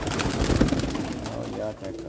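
Pigeons coo in low, soft, repeated calls amid busy background noise and voices nearby.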